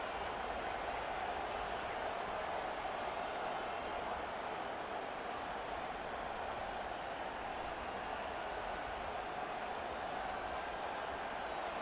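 Stadium crowd in the EA Sports College Football 25 video game, a steady, even roar of fans held at a moderate level throughout with no breaks.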